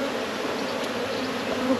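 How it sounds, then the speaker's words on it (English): Honey bees swarm busily at the entrance of a new hive in New Zealand, producing a dense, continuous buzzing drone that is close and fairly loud, with no voices. "have to remove some of these bees."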